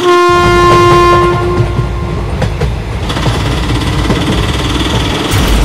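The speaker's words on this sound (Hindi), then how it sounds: "सामने से तो एक ट्रेन नहीं बल्कि एक ट्रेन का इंजन आ रहा है" A cartoon train engine approaching with a long, loud horn blast followed by rumbling wheels and rattling clatter, close and growing heavier.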